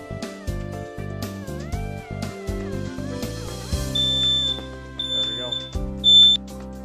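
Smoke detector being tested just after installation, giving several sharp, loud high-pitched electronic beeps in short bursts over steady background music.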